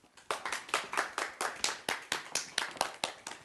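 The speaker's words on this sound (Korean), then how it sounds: "여러분 큰 박수 부탁드립니다." Applause from a forum audience after a keynote lecture introduction, a small group clapping in a fairly regular, distinct rhythm of about four claps per second, close and clear, with no talking.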